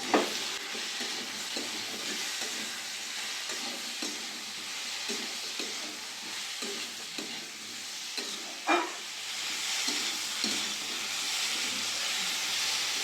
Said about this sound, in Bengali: ভালো করে মশলার সাথে কুমড়ো আলু কষিয়ে নিয়েছি